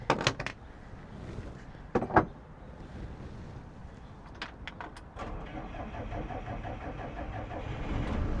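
Sailboat engine cranks in a few short bursts, then catches and settles into a steady mid-pitched idle that runs to the end, heard up close with no voices.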